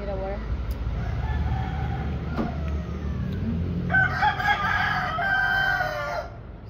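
Roosters crow in long drawn-out calls while chickens cluck around them, with one loud crow standing out near the end over a constant low rumble.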